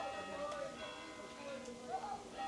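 A church bell rings in a Galician town, its steady sustained tones hanging across the whole stretch beneath a voice speaking in French.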